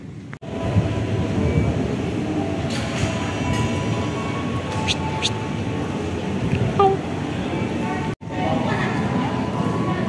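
Train hauled by a CC 203 locomotive approaching Kranji station, a steady rolling rumble with faint wheel squeal and distant horn-like tones, moderately loud with muffled chatter in the background.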